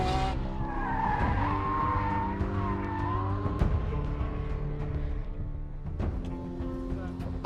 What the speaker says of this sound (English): I'm following an F50 and I'm oversteering in an F40.